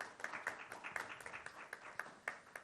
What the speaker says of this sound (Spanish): por favor den un aplauso también a su participación